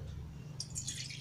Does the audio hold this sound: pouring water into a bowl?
yes